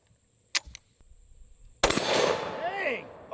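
A 12-gauge shotgun fires an explosive skeleton key round: a faint click and a small crack early on, then one loud blast followed by ringing, warbling debris and echo trailing off.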